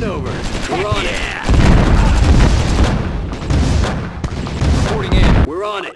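Grenade blasts in a Command & Conquer mod battle, with heavy rumbling explosions and gunfire that come in loud bursts, while voices shout over the noise.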